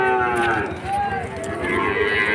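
A young calf about ten months old moos at a rural cattle market, one drawn-out nearby call over a bustling crowd backdrop.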